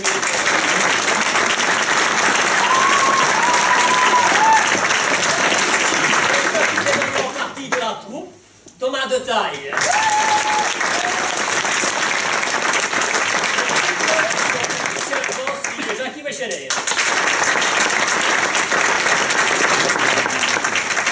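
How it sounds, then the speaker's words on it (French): Theatre audience applauding a troupe as performers are introduced, steady loud clapping that fills most of the stretch, broken by two brief lulls where an announcer's voice names cast members. "vous pouvez l'applaudir"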